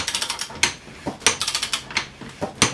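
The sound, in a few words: cranking a spring compressor on Porsche 928 suspension strut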